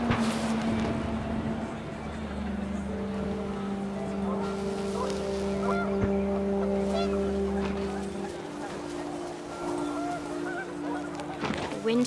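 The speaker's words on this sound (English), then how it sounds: "panicked geese appeared and quickly went" Geese honking in the video game What Remains of Edith Finch, repeated nasal honks over a steady low drone and wind, moderately near.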